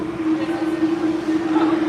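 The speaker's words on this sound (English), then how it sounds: "This train's been sitting here for 5 minutes." A red line subway train sits at a station with a steady, loud electrical hum and a low rumble throughout, no distinct movement or announcements.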